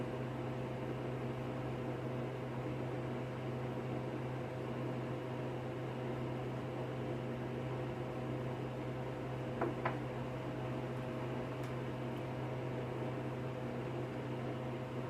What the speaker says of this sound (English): medium freeze dryer, 4 trays.